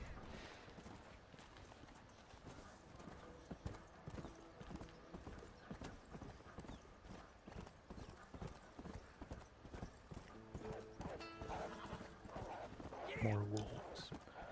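Close, rhythmic clip-clop of a war horse's hooves in the Red Dead Redemption game on the road across Nuevo Paraiso, with a whinny near the end, under soft-spoken talk.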